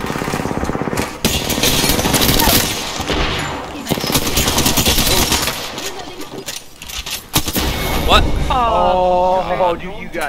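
Rapid automatic gunfire bursts and shots ring out in an Apex Legends match, loud and close, joined by mechanical game effects. Players talk excitedly over the shooting.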